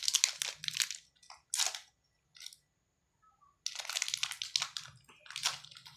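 Tiffany Creams biscuits crunch close up in separate bites and chews, with short pauses between, ending in a longer run of crunching.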